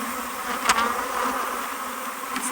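Honey bees buzz around an open hive while nucs are being combined, a dense close swarm drone with a few individual bees whizzing past the microphone.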